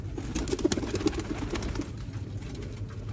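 Champion Sialkot pigeons coo in low, repeated throaty bursts, close and steady over a continuous background hum, with no voices present.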